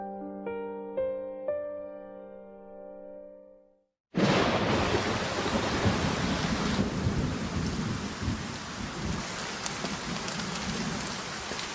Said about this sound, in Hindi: आज बहुत तेज बारिश हो रही है।